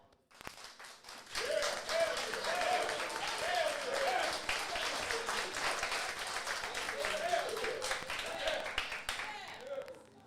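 An audience at a live comedy and music show claps together for about nine seconds, the dense steady applause mixed with voices and scattered whoops.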